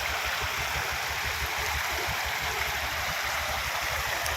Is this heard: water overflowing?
yes